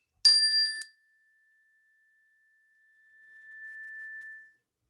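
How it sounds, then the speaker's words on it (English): A single bell ring signals the end of an exercise, a bright clear ding whose sustained tone rings on and slowly fades out in otherwise silent surroundings. "I'll ring the bell to come on back."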